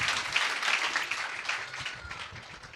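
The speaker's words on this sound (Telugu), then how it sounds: "చప్పట్లు కొడుతూ ప్రభువుని కనపరుద్దాం." Steady applause from a church congregation at a dedication service, a dense patter of many hands clapping continuously without pause.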